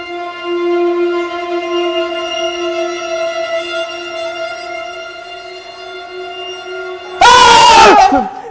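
A sustained, steady shrill wail holds for several seconds, then a sudden loud, harsh burst of screaming erupts at the end.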